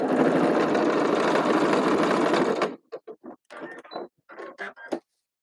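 A sewing machine stitches a stuffed figure's head onto its body with a dense, continuous mechanical whir for nearly three seconds, then stops, leaving a few short, scattered sounds.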